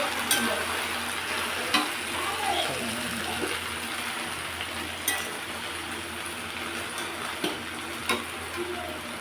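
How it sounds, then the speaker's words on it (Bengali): Okra (bhindi) fries in a pan, a steady close sizzle with occasional stirring clinks and scrapes across the whole stretch, no speech heard. "এবার ঢেঁড়স ভাজা বসানো হবে, আর ঢেঁড়স ভাজা হচ্ছে।"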